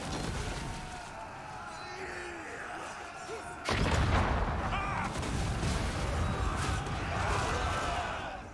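Artillery fire in a Total War: Warhammer battle bursts in suddenly partway through, a loud blast that gives way to a sustained, dense din of cannon and combat noise after a quieter stretch of ambient battle sound.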